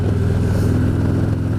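A motorcycle engine hums steadily while riding on a cold day, a low droning rumble that stays close and constant throughout.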